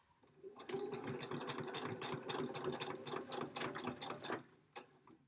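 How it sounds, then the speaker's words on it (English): A sewing machine stitches quilt pieces with a fast, steady mechanical whir and needle clatter that runs close and continuous for several seconds before stopping. "I'm just taking it over to my machine. And I will sew this."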